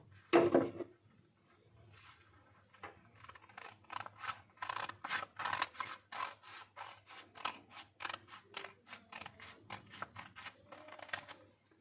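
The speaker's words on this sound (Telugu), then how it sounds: "ఈ గీసుకున్న తర్వాత మనం చిన్నగా కటింగ్ చేద్దాం." Scissors snip through fabric in a steady series of crisp, close cuts, roughly one every half second, with a louder handling clatter at the start and no talking over the cutting.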